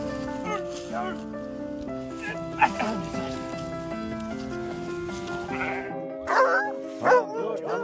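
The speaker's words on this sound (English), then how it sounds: "The mother dog was pleading with humans to save her puppies." A mother dog whines and yelps in pleading bursts over her puppies, with a few sharp barks toward the end over a steady musical background.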